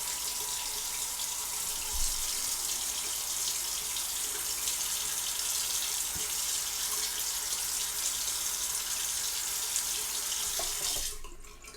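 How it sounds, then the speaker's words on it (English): Water runs steadily from a sink tap while a face is rinsed, a close, continuous splashing stream that stops abruptly at the end. "I'm gonna rinse my face and we'll see how I did."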